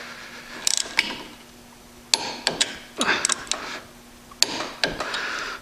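Ratcheting wrench clicks in quick bursts as connecting rod bolts are snugged up, several short runs of close, crisp ratchet ticks separated by brief pauses.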